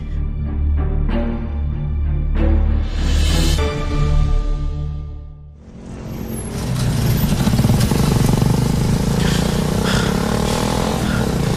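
A motorcycle engine runs with a steady harmonic drone while being ridden, rising in revs, then giving way to a louder, rougher broadband roar with traffic-like clatter for the second half. No one speaks.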